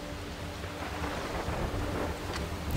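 Steady soft rain hiss in Far Cry 3 with low rumbling wind underneath, fairly quiet and continuous, ending in a brief louder bump.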